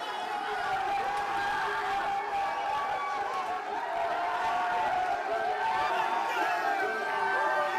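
Basketball team celebrating in a locker room after a win, a dense crowd of voices cheering and shouting together at steady, loud volume throughout, with overlapping yells and whoops.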